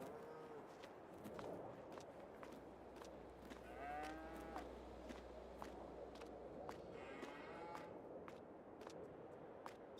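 Cows moo on a dairy farm in a video game: two drawn-out moos, the second fainter, over a steady low hum and scattered footstep-like taps.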